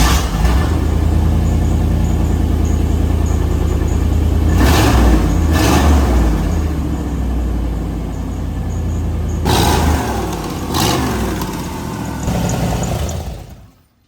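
A 1990 GMC C1500 pickup engine fitted with Flowtech headers and a full Flowmaster exhaust, idling with a deep, loud burble and rising in several sharp revs that roar and fall back, before cutting off abruptly.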